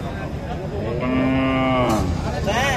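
A cow with her calf at the traditional Setabganj cattle market gives a loud, drawn-out moo rising over the crowd's murmur, followed by a shorter second lowing call near the end.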